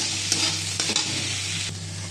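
Vegetables sizzle steadily in hot oil in a pan while a utensil stirs and scrapes them in a few distinct strokes, close and fairly loud with no talking.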